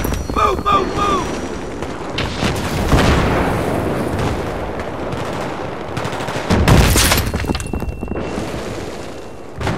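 Heavy explosion of a tank struck by a Javelin missile during Battlefield 3 combat, a loud blast amid continuous gunfire and battlefield noise, with shouting voices throughout.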